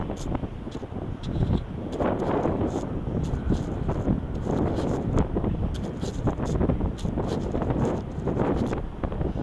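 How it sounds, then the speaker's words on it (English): Strong wind buffets the microphone in a steady, roaring rush through a New York City corridor, with gusty low rumble and occasional rustling, no voices. "It's a little windy in this corridor here"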